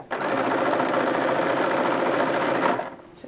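A sewing machine runs in one continuous steady whir for nearly three seconds, stitching piping in the ditch of a mid-19th-century bodice, then stops abruptly, close and clear with no talking.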